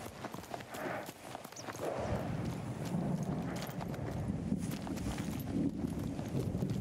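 Horse hooves clip-clop at a steady riding pace in the video game Ghost of Tsushima, a continuous close rhythm of thuds over soft ambient background.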